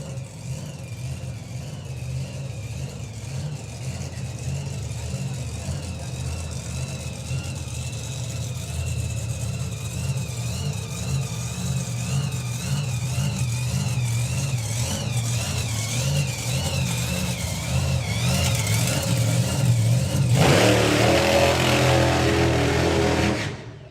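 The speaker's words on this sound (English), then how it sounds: "It's been drowned out by the engine." Drag racing car engine at the Nostalgia Nationals revving for a long stretch, a steady roar with a wavering, warbling whine above it, building louder until a harsh burst near the end before it cuts off.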